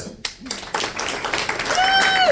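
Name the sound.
audience applause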